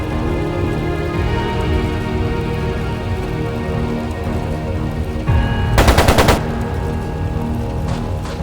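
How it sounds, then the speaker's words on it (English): Machine gun fire in Trails of Cold Steel II: a single loud, fast rattling burst cuts in briefly over a steady droning game soundtrack and background ambience. "sounded like a machine gun"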